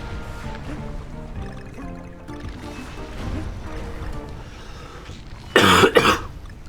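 A sharp, loud cough bursts out near the end, over Donkey Kong Country Returns HD game music or murmuring voices.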